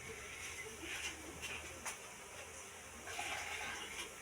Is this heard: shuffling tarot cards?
no